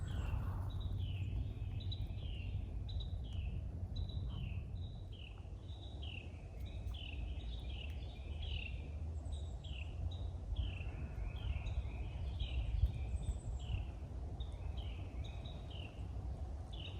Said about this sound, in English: Listen to the sound of the birds too.